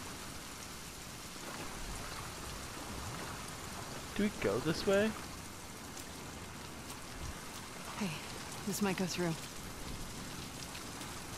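Steady rain falls with low rumbling thunder in the video game The Last of Us Part II, a constant hiss under two brief bursts of voices talking.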